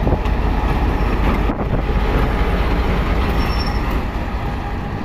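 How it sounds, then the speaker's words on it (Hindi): A locomotive rolls in to couple onto the PDK shuttle train's rake near Malakwal, producing a steady, loud rumble of rail and wheels with wind buffeting the microphone and a brief wheel squeal partway through. "लीजिए जी, लोकोमोटिव अटैच होने के लिए आ गया"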